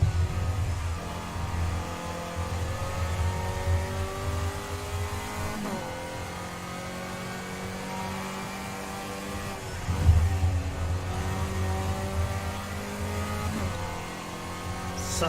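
A race car engine drones steadily in a VR racing game on a track with a corkscrew, its pitch climbing and dropping through repeated gear shifts, with a louder surge about two-thirds of the way through.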